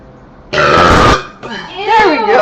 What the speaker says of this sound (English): How about the burps?